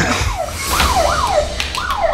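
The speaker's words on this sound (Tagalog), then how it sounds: "Bakit nag-alarm?" A loud electronic house alarm wails close by, its pitch sweeping up and down over and over in a quick repeating cycle, with faint voices and rustling beneath it.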